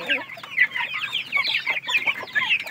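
Forty-five-day-old broiler chickens clucking and chattering together nearby, a busy, continuous flock murmur of short overlapping calls with no voices.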